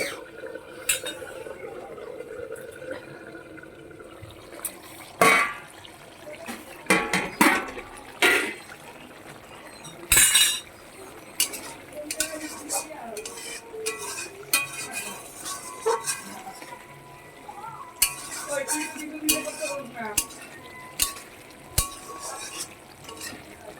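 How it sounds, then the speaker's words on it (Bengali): A cooking pot lid is lifted and set down while potatoes for a paneer curry simmer, giving sharp metallic clinks and scrapes amid stirring and pan clatter, close and moderately loud, with no talk. "ঢাকনাটা খুলে দেখছি গাইস,"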